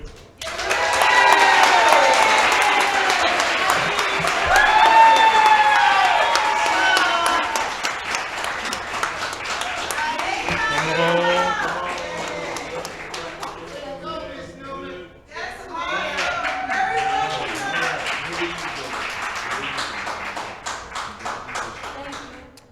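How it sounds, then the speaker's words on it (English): An audience at a creative writing showcase applauds the first place winner, with clapping mixed among voices and cheers that dip briefly before swelling again. "First place, big round of applause,"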